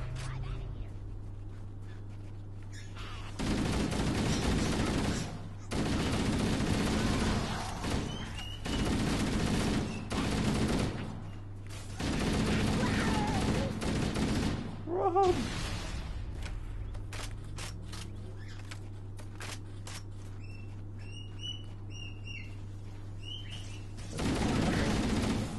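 Gunfire in the Halo Anniversary video game comes in several sustained bursts of rapid shots at moderate level, separated by short pauses, with brief chirpy game effects in between.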